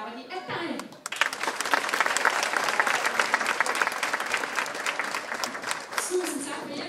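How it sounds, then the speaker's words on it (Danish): An audience in a church breaks into applause after a brief quiet opening, and the clapping stays loud and even for several seconds, with some voices underneath. "Hvis du kigger og bukker og smiler, så klapper de af dig."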